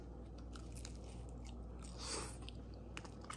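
Crunchy bites into a crispy low carb tortilla pizza topped with sauce and cheese, quiet close chewing and crackling crunches, no talking.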